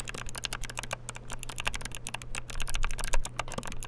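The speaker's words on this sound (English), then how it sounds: "It's a wooden keyboard." Rapid, steady typing on a wooden computer keyboard, a dense run of close, crisp key clicks with a few louder strikes and no talking.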